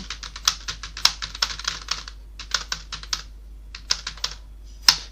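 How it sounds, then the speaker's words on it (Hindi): Data is typed on a computer keyboard in quick, uneven clusters of close, crisp key clicks, with a few sharper keystrokes standing out. "यहाँ पे कुछ भी डाटा टाइप कर लेते हैं ऐसे"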